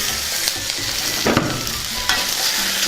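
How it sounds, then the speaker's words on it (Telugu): Boiled, peeled taro root pieces are stirred in a frying pan, a steady sizzle of hot oil running throughout with scraping stir strokes and a couple of sharper clatters near the start and middle. "వీటిని కూడా ఒకసారి బాగా కలుపుకుందాం."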